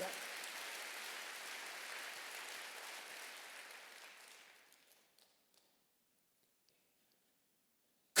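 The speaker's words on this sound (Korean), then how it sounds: "박수" A congregation at a Sunday church worship service applauds in a soft, even patter that thins and fades out about halfway through, leaving near silence.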